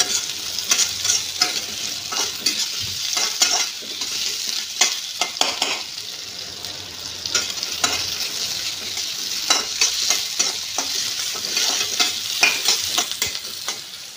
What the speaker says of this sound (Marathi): मोहरी टाकायची, जिरे टाकायचं, हे छान लालसर होईपर्यंत परतून घ्यायचं।